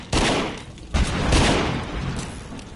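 Rapid gunfire from the PSVR video game The Walker, loud overlapping bursts of shots with a heavy boom near the start and another close to one second, then a sustained rattling barrage.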